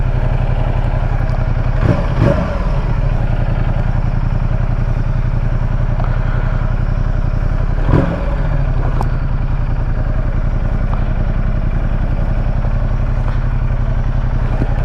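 A Ducati XDiavel motorcycle being ridden on its first ride while the clutch is tested: a loud, close, steady engine drone throughout, broken by a couple of brief mechanical clunks.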